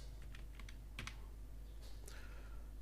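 Typing on a computer keyboard while building a web page's home page slider, a quiet scatter of light key taps in short clusters over a steady low hum, with no voice.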